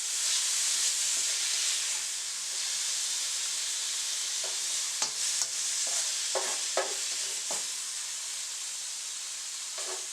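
Beef stir-fries in a wok over high heat, a loud steady hiss and sizzle with scattered short scraping and clanking strokes from stirring later on; no voices.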